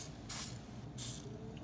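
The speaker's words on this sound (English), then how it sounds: "I'm spraying everything." Two short hissing bursts from a spray can, the second following about half a second after the first, faint and close.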